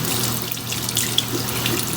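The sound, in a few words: tap water rinsing makeup brush in sink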